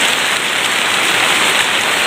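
Heavy rain pours steadily into a leaking house, the flooding downpour a dense, continuous broadband hiss of rain and running water, close and loud with no break.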